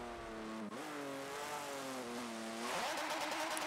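A Renault F1 car in Forza Motorsport 7 at Road America screams with a high, tonal engine whine that drops briefly at a gear shift, climbs again, then turns rougher and louder as the throttle is pushed.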